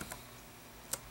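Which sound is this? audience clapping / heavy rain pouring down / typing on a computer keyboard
typing on a computer keyboard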